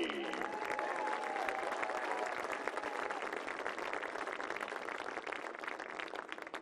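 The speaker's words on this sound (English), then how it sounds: "have a wonderful round of applause for our all-tournament team." A large crowd at the 2019 NCAA Division III women's soccer championship applauds steadily, a dense wash of clapping that holds at an even level throughout.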